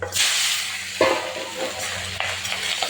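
Pieces of hilsa fish rubbed with salt and turmeric sizzle steadily in hot oil with nigella seed tempering, a loud continuous crackle with a burst as more pieces go in, no talking.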